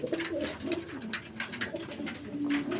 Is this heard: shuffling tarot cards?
no